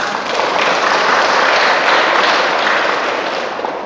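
An audience at a Buddhist dharma lecture breaks into applause: a dense, steady wash of many hands clapping together, loud and sustained for several seconds before tapering slightly.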